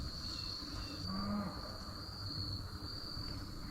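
Cattle lowing on an oak-covered ridge around late October, one brief, fairly distant moo set against a steady chorus of crickets and insects.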